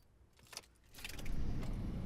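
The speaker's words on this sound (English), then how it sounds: "I tossed my bag into the back and sat down in the driver's seat before sliding my key into the ignition" Car keys jangle close by, a few light metallic clinks, then slide into the ignition as a low rumbling car interior sound swells, no voices.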